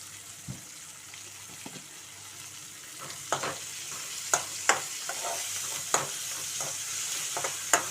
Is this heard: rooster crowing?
no